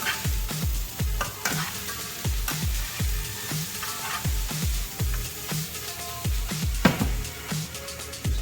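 Pasta tossed in a hot pan sizzles continuously while a utensil scrapes and clinks against the pan in a quick, regular stirring rhythm, close up and without any talking.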